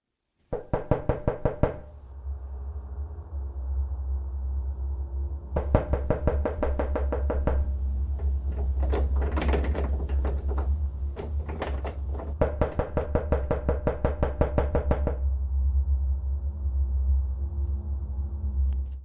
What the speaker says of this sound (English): hears knocking on his front door, which creeps him out